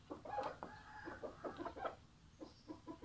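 A fighting rooster clucks in a string of short, soft, fairly distant calls with faint background noise.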